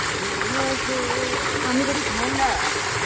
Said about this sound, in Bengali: সামশাল অন করে দিয়েছি